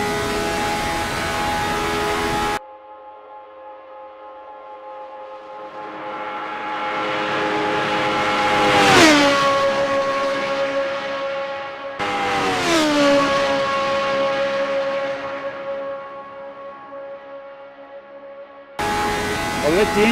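An RSS Formula 79 race car engine in a VR racing game revs up to a high-pitched scream, then drops as it engine-brakes, twice in succession, with the whine sweeping down in pitch each time and staying loud and close.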